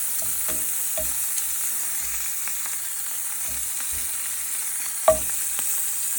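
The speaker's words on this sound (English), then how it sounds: "I'm just gonna place my burgers in here like so, frozen. Straight down on top of the butter, like that." Frozen Beyond Meat burgers sizzle steadily in melted butter in a pan, a continuous close hiss with a few soft clicks and a sharper knock near the end, no voices.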